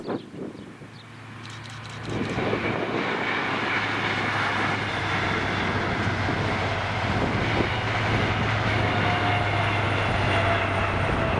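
An HST led by class 43 power cars, working the Edinburgh to Birmingham service near Spital, passes with a loud, steady diesel roar and continuous rail rumble. The roar builds quickly after a couple of seconds and holds throughout.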